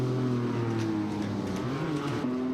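Race car engines in the eROC sim racing game, a steady high-pitched whine whose pitch shifts as revs rise and drop through gear changes, loud and continuous with no talking.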